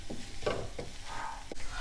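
Beans and carrots sauté with chili powder in a pan for a pasta dish, a soft steady sizzle broken by a few scraping stirs of a spoon.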